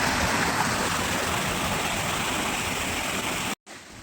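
A stream flowing past an old mill site rushes steadily with a dense, close wash of water that cuts off abruptly just before the end.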